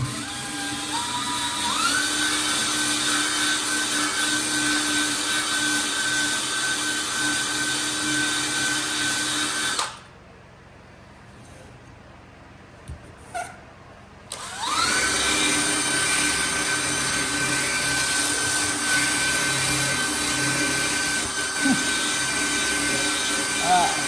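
Nylon stripping wheel spinning against a surface under light pressure, a loud steady high whine that cuts out for several seconds, with faint clicks in the gap, then starts up again and runs steadily.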